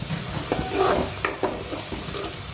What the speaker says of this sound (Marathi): मसाला चांगला आहे तेलामध्ये फ्राय होतो, कच्चा मसाला जो आपण तयार केला ना तो छानपैकी फ्राय होतो।